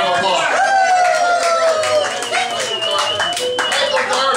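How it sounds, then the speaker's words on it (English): An audience claps and cheers as a performer takes the stage at an evening show, lively clapping mixed with crowd voices and chatter throughout. "Give him a round of applause."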